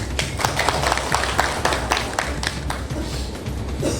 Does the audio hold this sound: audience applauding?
yes